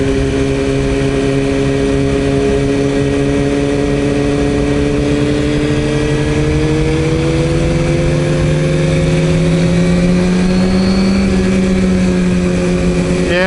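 Steady motorcycle engine drone while riding, loud and close, with the pitch slowly climbing as the rider accelerates, no voices over it.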